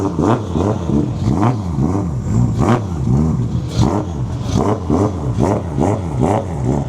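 A drift car with a Toyota 2JZ engine revs repeatedly in sharp, rhythmic blips, each rise and fall of pitch loud and close, with clattering mechanical texture between pulls.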